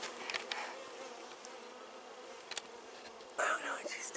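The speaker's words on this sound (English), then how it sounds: "I got lots of bees with me." Honeybees buzz steadily around a beekeeper at a farm apiary during package installation, a close, continuous drone with brief louder swells as bees pass near, alone without talk.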